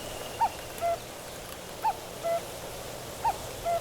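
A cuckoo calls in clear two-note phrases, repeated three times at an even pace, from a moderate distance over a quiet outdoor background.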